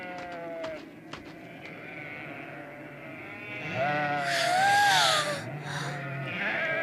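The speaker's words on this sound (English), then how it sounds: "just look at all the fluffy sheep!" Sheep bleat in a meadow, one wavering call rising clearly in the middle over a low ambient murmur, with faint clicking and noise around it.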